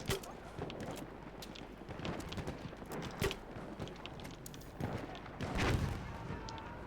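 Battlefield 1 gunfire: scattered shots and a few heavier booms crack through a steady background rumble, with faint voices now and then.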